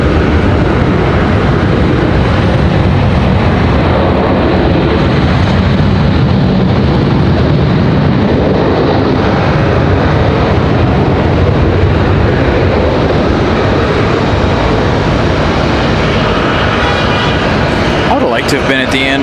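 Airliner landing on the runway at Raleigh-Durham International Airport, a loud, continuous engine roar close by that fills the whole stretch, with voices talking underneath.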